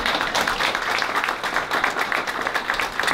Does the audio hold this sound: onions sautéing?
no